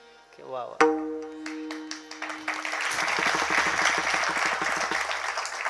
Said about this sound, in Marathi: एकच वाक्य बोललो, टाळ्या झाला.